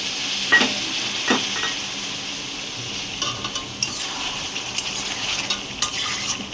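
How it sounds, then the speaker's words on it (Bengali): Spices for a village-style aloo dum are stir-fried in a pan with a splash of water, a soft steady sizzle with scattered scraping and clinking of the stirring utensil. "একটু জল দিয়ে ভালো করে কষতে হবে"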